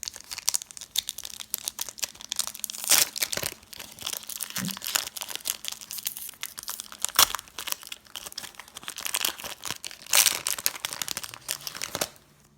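Foil Pokemon Neo 2 booster pack torn open, a close run of crinkling and crumpling with several sharp tearing bursts over about twelve seconds, no talking.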